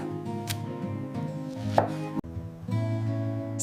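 Ripe bananas are cut into rounds on a board, with a few soft knife taps and one sharper thud against steady background music.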